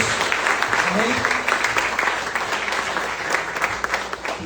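Church congregation applauding at a Portuguese-language worship service, sustained loud clapping throughout with a voice speaking over it.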